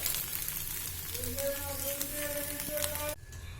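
Fresh coconut dosa cooking on a hot pan: a soft, steady sizzle and faint crackle close by, with a brief tonal hum partway through before it drops quieter.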